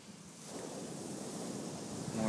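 Ocean waves and surf at Sunset Beach on Oahu's North Shore, a soft, steady wash of breaking water with some wind rumble, heard from a distance and fairly faint.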